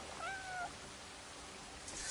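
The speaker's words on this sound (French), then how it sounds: "Attends, j'entends un chat." A single short cat meow in the game Crimson Desert rises and falls early on, then only a quiet hiss of background noise remains.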